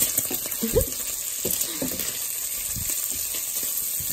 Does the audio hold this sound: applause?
no